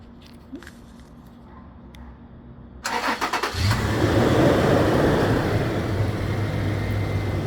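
After a faint click, a 2013 Toyota FJ Cruiser engine, started by remote start, cranks with a few rapid chugs, catches, and settles into a steady low idle nearby.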